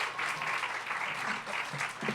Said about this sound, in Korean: 우리 박진성 집사님을 박수로 맞이하겠습니다.